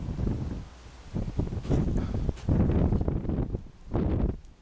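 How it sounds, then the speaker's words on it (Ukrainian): Strong north wind buffets the microphone in gusts, deep rumbling blasts that rise and fall over a few seconds. "Да, вітер сильний."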